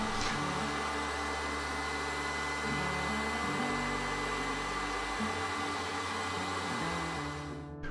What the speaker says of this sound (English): Now I turned the paint burner on high to heat the wood with the wet rags around it.